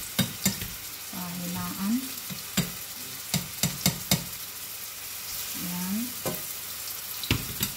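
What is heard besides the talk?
oil frying and sizzling in a pan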